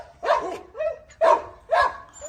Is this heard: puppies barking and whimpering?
yes